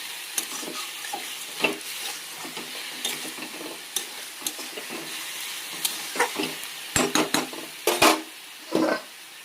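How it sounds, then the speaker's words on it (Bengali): A metal spatula stirs and scrapes food around a sizzling pan, making repeated short clattering strokes over a soft, continuous fry hiss. "একবার করে নেড়ে দেবো খুন্তি দিয়ে"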